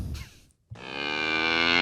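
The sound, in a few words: person imitating a cow mooing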